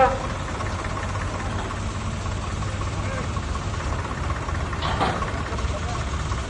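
A low, steady tractor engine rumble idles continuously in the background, with people talking over it outdoors at a Ganesh immersion procession in Nagpur.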